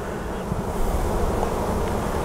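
Honey bees buzz steadily around a hive frame during a loose-comb inspection, a continuous close hum with a windy, noisy outdoor background.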